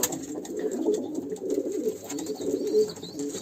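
Pigeons in a loft cooing steadily, low throaty calls overlapping close at hand, moderately loud with no talk.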